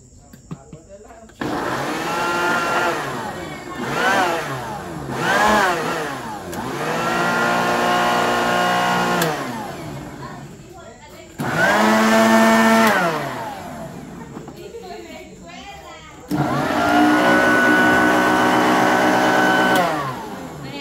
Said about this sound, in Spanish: Le pone un poquito de, sí, de juguito de limón. Para poder licuar.